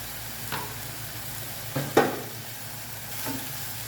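Onion frying in a pan with salt, a low even sizzle under a few spatula scrapes and knocks against the pan, one louder clatter midway, nobody talking.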